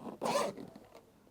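The zipper on a hard shell case for a DJI Mini 3 Pro drone is pulled once in a quick, close rasp, followed by faint handling sounds.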